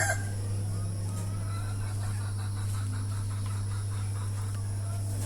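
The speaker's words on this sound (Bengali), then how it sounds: "এইখানে অনেকগুলো মুরগি আছে, আরও অনেকগুলো মুরগি রাখা যাবে" Desi chickens kept in cages in a shaded shed under trees give soft, scattered clucks over a constant low electrical hum, fairly faint and without clear talk.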